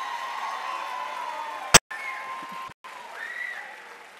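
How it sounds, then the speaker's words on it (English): An audience claps for a group of dancers at a dance show, producing a moderate, steady patter of applause interrupted by a couple of brief dropouts and a sharp click. "Give them another round of applause."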